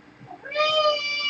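A domestic cat gives a single clear, close meow that rises and holds for about a second.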